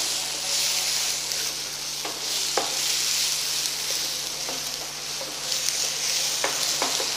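Prawns and slit green chillies with curry leaves fry and get stirred in a pan, giving a steady bright sizzle with occasional scrapes and ticks of the spatula, close and continuous.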